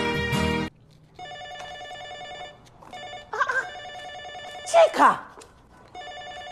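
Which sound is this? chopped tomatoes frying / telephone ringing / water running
telephone ringing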